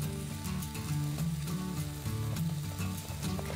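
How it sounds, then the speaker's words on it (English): Corn batter mixed with egg and milk stirred in a bowl, a run of rhythmic scraping strokes repeating at a steady pace, fairly close with no speech. "And we'll give that a good stir here."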